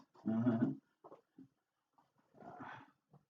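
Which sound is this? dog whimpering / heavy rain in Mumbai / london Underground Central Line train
dog whimpering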